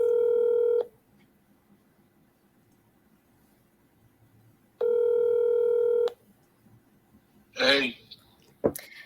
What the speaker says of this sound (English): Oh, not picking up. I'm doing my 3rd dial.